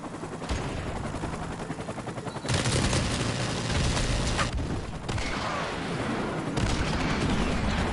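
An airstrike and gunfire in a video game make a dense, loud, continuous barrage of booming blasts and rapid shots that shift in intensity across the span.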